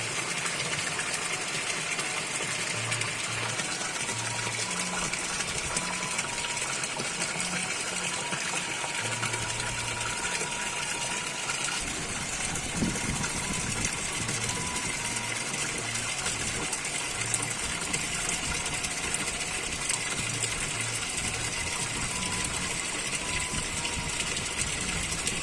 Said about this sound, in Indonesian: di sini hujannya sudah turun ya, dan sangat menggebret ya